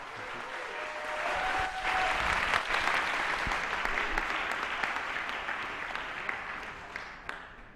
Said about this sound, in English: If not, round of applause.